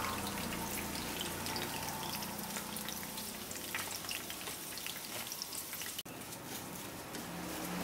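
Moong dal frying in hot oil gives a continuous, dense crackling sizzle, close and steady, with a brief dip near the end.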